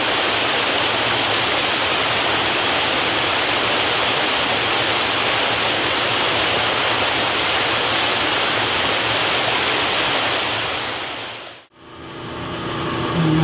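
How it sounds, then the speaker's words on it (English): A rain-swollen creek rushing behind a machine shop, a steady, loud broadband roar of flowing water filling the clip before cutting off abruptly near the end. "the creek back here behind the shop's running pretty good"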